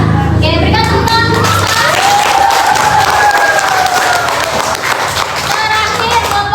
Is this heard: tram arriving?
no